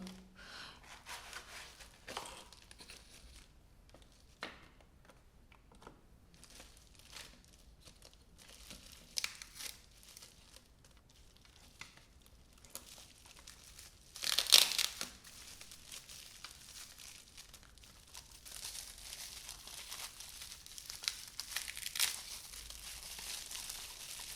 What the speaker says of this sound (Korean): 컨트롤러 박스도 한번 열어볼게요